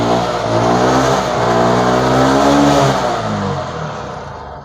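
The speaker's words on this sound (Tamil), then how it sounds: "பைக்கை ஸ்டார்ட் பண்ணி ஃபைனலாக செக் பண்ணிக்கலாம்." A TVS XL100 BS6 moped engine runs loudly after starting and revs up, its pitch rising and holding before easing off as it settles, close by with no talking.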